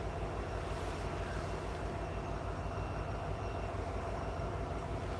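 A Norfolk Southern freight train passing close by at trackside, a steady loud rumble with rhythmic wheel clatter on the rails throughout, no voices.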